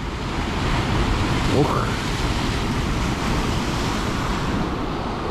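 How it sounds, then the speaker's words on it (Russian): Sea surf on a beach at a resort coast, a steady loud roar of waves and wind across the whole stretch with one brief vocal exclamation. "сейчас волна ударит"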